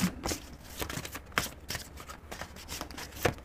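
Tarot cards are shuffled by hand in a series of quick riffling, papery bursts with small taps between them, close and fairly steady, with no speech.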